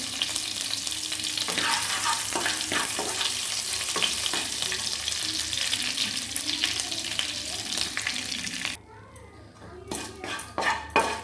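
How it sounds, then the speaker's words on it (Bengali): Whole spices, bay leaf, whole garam masala and cumin seeds, sizzle and crackle steadily in hot oil for a Bengali fish-head muri ghonto, with occasional stirring clinks from a pan, close and continuous until a brief quieter stretch near the end. "তেল গরম হয়েছে, দিয়ে দেবো তেজপাতা, আর দিয়ে দেবো গোটা গরম মশলা, আর একটু জিরে ফোড়ন।"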